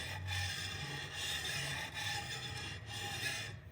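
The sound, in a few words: chisel rocked back and forth on Tormek sharpening jig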